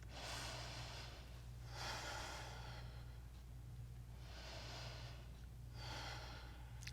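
Slow, deep breathing during a yoga session: long, soft, airy inhales and exhales alternating in an even rhythm, close and quiet over a low steady hum.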